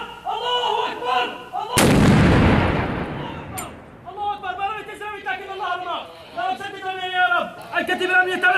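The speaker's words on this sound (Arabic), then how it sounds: "رمي صواريخ محليه باتجاه البعوث العلميه" A locally made rocket launches with a sudden loud roaring whoosh that fades over a couple of seconds, followed by a sharp crack, amid repeated shouting from a crowd of men before and after, in Aleppo.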